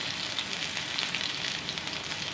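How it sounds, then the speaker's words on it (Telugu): Bitter gourd slices fry uncovered in hot oil in a pan, giving a steady, close, even sizzle with faint crackles and no voices. "ఇలా అంతా కలుపుకుంటూ ఫ్రై చేసేయాలి"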